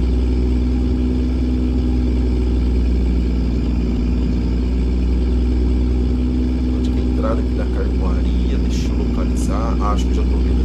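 A Volvo FH16 2012 truck in Euro Truck Simulator 2 hauls a tall load of sawn lumber, its engine a loud, constant low drone throughout, with brief faint chirps near the end and no talking.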